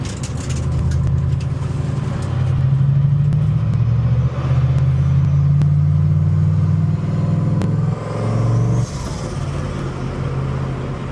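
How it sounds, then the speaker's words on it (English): A Datsun 240Z hums steadily with low road rumble as it drives along a mountain road, the pitch shifting briefly as it changes speed; no one speaks. "Car drives awesome."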